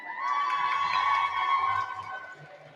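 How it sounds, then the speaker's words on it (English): A roller derby audience at a short track bout cheers and shouts for the skaters coming out, a steady loud crowd roar that swells and then begins to fade near the end. "Give them a cheer."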